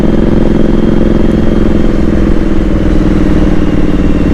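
Motorcycle pulling away, its engine throbbing loud and close with a steady low rumble and slight mechanical clatter, no voices.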